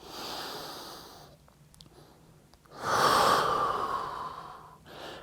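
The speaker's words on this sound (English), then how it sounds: "Keeping my breathing nice and controlled." Controlled breathing during a yoga pose, two long audible breaths close to the microphone, a soft exhale followed by a quiet pause and then a stronger, airy inhale-exhale with no talking.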